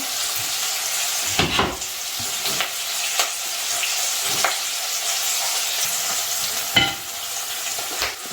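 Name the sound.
onions sautéing with salt in a pan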